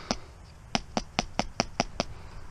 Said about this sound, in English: What I do is I just knock it off on my shoe